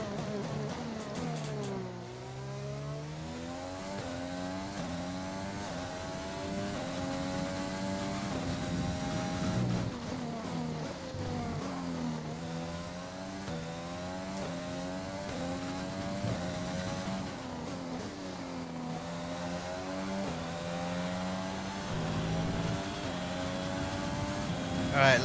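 A Formula 1 car racing at the Hungarian Grand Prix in F1 2020, its high-pitched engine whining steadily and rising and falling through gear changes and corners, loud and continuous over a long stretch.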